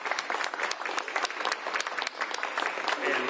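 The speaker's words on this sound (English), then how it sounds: "Give a round of applause, especially for Thais for being here and speaking" Audience at a press conference in Pasco with Governor Bob Ferguson breaks into steady applause, a dense patter of many hands clapping close by with a few sharper individual claps standing out, continuing without pause.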